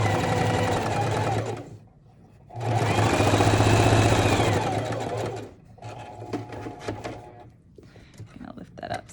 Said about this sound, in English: just directing the fabric under the sewing machine needle